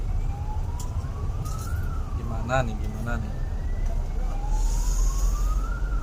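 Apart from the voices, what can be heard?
ambulance siren in traffic jam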